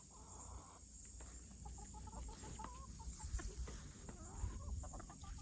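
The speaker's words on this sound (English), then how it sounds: "Y'all checked on my broody chick. She's still in there, puffed up." A broody hen puffed up on her nest gives low, soft clucks, with scattered brief higher chirps from other chickens around her, all faint and steady across the clip.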